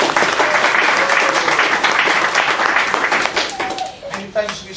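Loud, sustained hand clapping from a church congregation fills the space for several seconds, fading slightly near the end with a few stray tones underneath.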